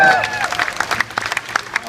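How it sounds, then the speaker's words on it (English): A crowd at Fear Factor Live in Universal Studios Florida applauds the finalists, with a loud opening swell of clapping and cheering that thins into scattered claps while a host talks. "Big round of applause for our finalists."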